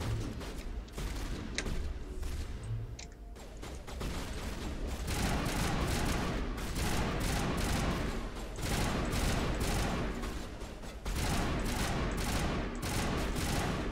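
Pistol gunfire in the video game Mass Effect, continuous crackling shots and bursts mixed with dense combat noise at a steady moderate level, with no talking.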